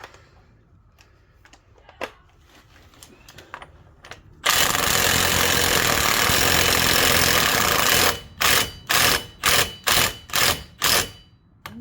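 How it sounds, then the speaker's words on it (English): An impact wrench snugs up the front wheel bearing on a 2011 Grand Caravan: one sustained loud rattling burst, then a quick series of six or seven short hammering pulses, close and unvoiced. "I'm going to impact it on at least to get it snug in."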